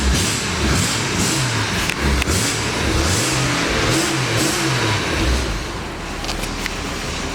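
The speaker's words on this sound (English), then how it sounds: "Little 6-cylinder engine starts right up, purrs like a kitten." A 1963 Ford Falcon Futura convertible's six-cylinder engine runs steadily, loud and close, rising and falling in gentle revs before settling toward a smooth idle.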